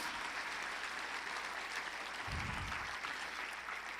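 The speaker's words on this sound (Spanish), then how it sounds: "Dale un aplauso fuerte a Jesús" A church congregation applauds during a service, with dense, steady clapping from many people and a brief low thump near the middle.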